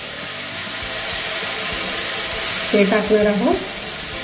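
Finely chopped garlic, fifteen cloves, sizzles steadily in a hot pan for dal khichdi, a constant hiss with a brief burst of speech near the end.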